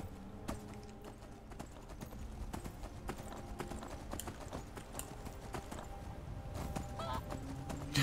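Horse hooves clip-clopping in the video game Skyrim, a steady run of crisp, even hoofbeats at moderate volume with a faint game backdrop.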